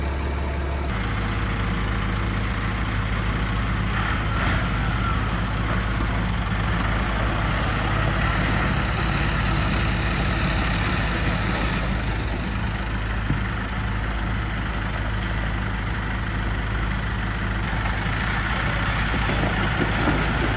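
A diesel digger engine running at a steady idle close by, a constant low rumbling drone with no variation and no one speaking over it.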